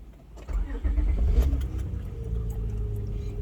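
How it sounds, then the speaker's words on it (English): A car engine cranks briefly, catches and settles into a steady idle, close and fairly loud with no talking, once starting normally without a jump from a portable battery. "Feels so much better to be able to start the car like a normal person"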